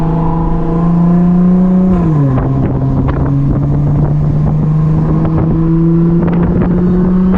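Audi S4 with 430 hp and all-wheel drive, driven hard, giving a loud, steady high-pitched whine over the engine's tone; the pitch dips briefly once, then holds, with wind buffeting throughout.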